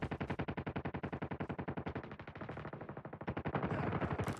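Rapid automatic gunfire from a video game shooter rattles in a steady burst of closely spaced shots, loud and unbroken, shifting to a denser roar near the end.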